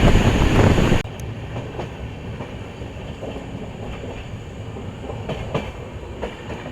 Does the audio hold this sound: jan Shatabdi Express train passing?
yes